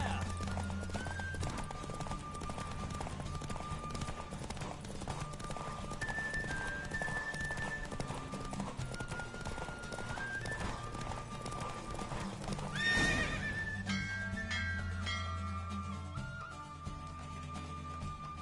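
A horse gallops in The Witcher 3, steady clip-clop of hooves with a whinny partway through, set against game music and ambience.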